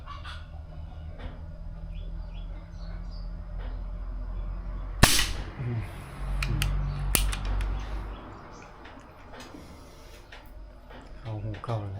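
A single sharp shot cracks out at a coconut tree amid outdoor background noise with birds and chickens nearby, followed by a few fainter clicks and mechanical handling sounds while someone talks throughout.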